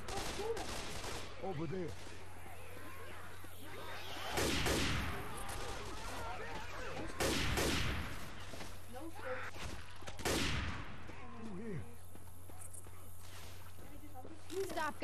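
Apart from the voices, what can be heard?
gunfire in Left 4 Dead 2 video game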